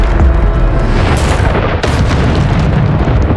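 Bombarda blasting spell in Hogwarts Legacy, a loud booming magical explosion with dense rumbling low end, a sharp secondary burst midway, and sustained roar throughout.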